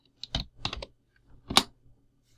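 A computer keyboard tapped in a few quick, close, quiet bursts of keystrokes as a number is entered, with short pauses between them and no talking.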